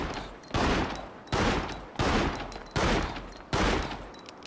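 Five loud, separate gunshots fired at a fragile lock in Resident Evil Outbreak File 2, evenly spaced about a second apart, each a sharp crack with a short decaying tail and no talk over them.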